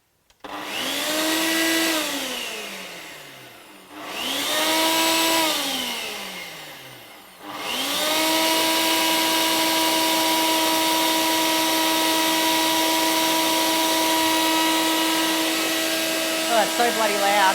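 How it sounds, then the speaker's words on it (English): A blender whirs loudly through a recipe mixture, starting twice in short spinning bursts that wind down, then running steadily at high speed; no speech is heard. "All right, so we're just going to blend this."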